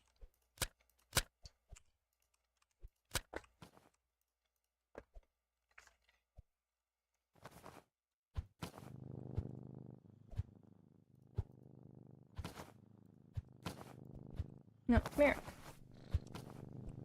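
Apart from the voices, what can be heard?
cats purring while petted in video game Bookshop Simulator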